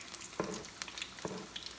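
Puerto Rican alcapurrias fry in hot oil on medium heat with a faint, steady sizzle broken by a few small crackles and pops, heard close and without voices.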